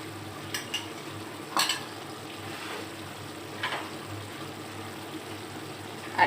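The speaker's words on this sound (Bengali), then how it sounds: "দিয়ে গোশতটাকে আমি ভাজা ভাজা করে নেব।" Beef cooks in a pan with fried onions, a faint steady sizzle under occasional scraping stirs and light clinks of a spoon against the pan.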